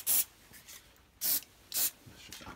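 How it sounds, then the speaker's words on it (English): Short hissing spray bursts from an aerosol can aimed at a pencil, three loud close blasts separated by quiet pauses with faint rubbing between them. "A bit of spray."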